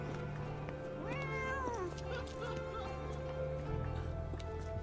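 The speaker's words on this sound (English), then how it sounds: "The cats can yell at me, but I can't pet them." Video game cats meowing in a Creole Town street, a couple of clear rising-falling yowls over a steady low ambient hum, fairly near.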